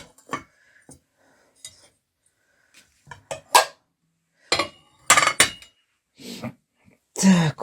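Old china dishes clink and knock together in a rural house, with scattered sharp rattles and taps in irregular bursts, some louder close handling near the end, and brief quiet voices in between.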